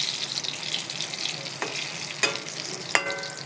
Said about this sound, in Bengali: এই যে বড়া ভাজা হচ্ছে